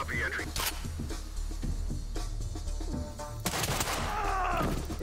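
Loud bursts of gunfire in the tactical shooter Ready or Not, rapid sharp shots stacked in dense clusters at close range, with players' radio voices talking over the shooting.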